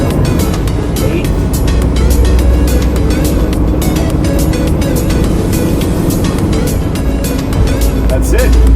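Peterbilt truck cab with its engine droning loudly and steadily throughout while the driver works an 18-speed Eaton manual transmission up through the gears, the revs rising and falling with each shift, with talking over the noise.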